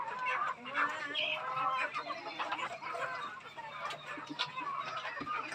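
Backyard chickens raised for eating cluck continuously at close range, with some louder squawks, while someone talks over the flock throughout.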